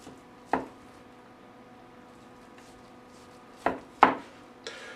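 A knife working through a homemade ham shank on a board, four separate sharp cutting knocks spaced unevenly over quiet background, close and crisp with no talk.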